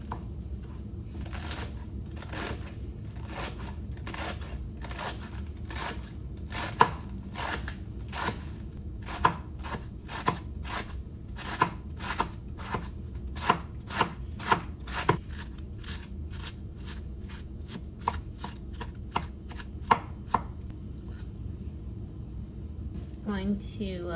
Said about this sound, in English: I love the detail and I love how it just feels while I'm chopping